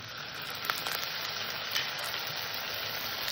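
A paste of ginger, garlic and tomato sizzles and fries steadily in a pan, with a couple of brief stirring scrapes, while the masala is cooked down for a fish curry.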